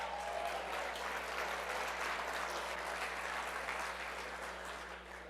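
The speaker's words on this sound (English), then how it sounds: "Can we give her a big round of applause?" Audience applause filling a hall at a talk, a steady dense wash of clapping that holds for about five seconds before tapering slightly at the end.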